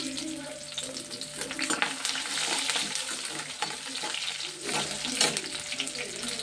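Garlic dropped into hot oil crackles and sizzles as a spoon stirs it, with bursts of spattering and scraping close by over a steady hiss.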